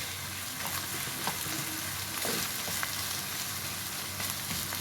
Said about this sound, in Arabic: اول ما يبدأ يتحمر شويه احط البصل